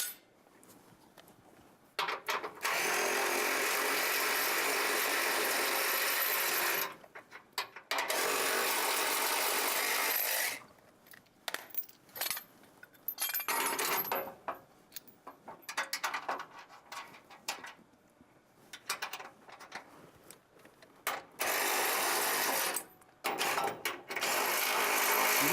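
Tools and metal brackets being handled while bull bar support brackets are fitted to a Dodge Ram half-ton pickup: intermittent bursts of clattering, whirring mechanical noise separated by quiet gaps, fairly near and moderately loud.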